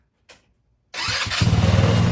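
A GY6 150cc scooter engine cranks briefly after a short click, then catches and roars into a loud, rough idle that settles into a steady pulsing beat, close by.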